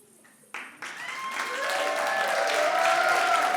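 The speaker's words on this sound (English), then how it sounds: "Oh, resounding applause, resounding applause." Audience applause at a cultural celebration event, swelling from a few scattered claps into a loud, steady wash of clapping that fills the room and holds to the end.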